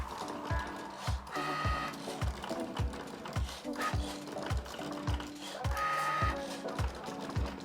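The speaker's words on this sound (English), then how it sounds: "Now I'm loading up the green to cut out the stems of the strawberries." A Cricut smart cutting machine cuts green vinyl, giving a steady run of rhythmic mechanical ticks and ratcheting pulses over a thin motor whine, close and moderately loud.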